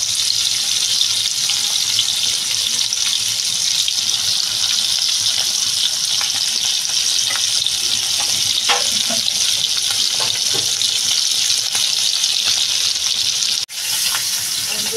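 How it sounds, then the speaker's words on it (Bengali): Small puti fish frying in oil make a continuous, loud, dense sizzle with faint clinks and scrapes scattered through it, no talking. "তো মাছটা ভালো লাল করে ভেজে নেবো বন্ধুরা।"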